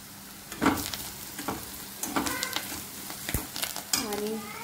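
Asafoetida is stirred into a frying pan mixture for Maharashtrian baingan bharit, with a constant sizzle of hot oil and intermittent spoon scrapes and clinks against the pan, close and fairly loud.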